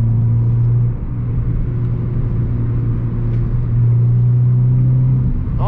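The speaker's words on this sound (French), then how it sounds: "avec son 2 litres Atmo qui chantonne fort sympathiquement" A Renault Clio 3 RS with its 2-litre naturally aspirated engine drones loudly from up close, holding a steady low tone with a brief dip and a rising rev near the end.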